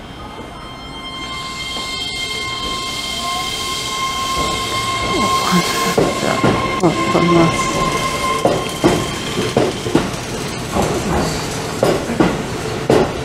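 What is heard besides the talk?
Keihan 10000 series out-of-service train arriving at Kōrien station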